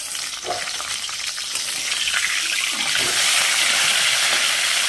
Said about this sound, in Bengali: এই দেখো মাছটা ভাজা বসিয়ে দিয়েছি